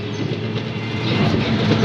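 A train running on rails gives a steady, loud rumble with faint clickety-clack throughout, close and continuous with no talk.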